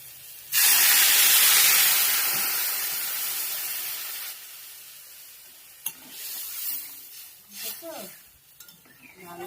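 Water poured into a hot pan of okra and crab curry, bursting into a loud hissing sizzle that slowly fades, followed by a sharp clank, softer bubbling and brief faint voices.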